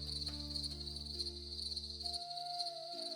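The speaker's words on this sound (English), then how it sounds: "The cicadas continue." Cicadas shrill in a steady, continuous chorus on a late summer evening in a valley, a bright sustained insect drone that stays alone and unbroken throughout, with a low hum underneath that cuts out partway.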